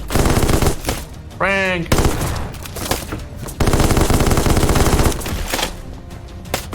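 Loud rapid bursts of gunfire in the airship video game Black Skylands, with a short rising tonal blip between volleys and brief spoken words.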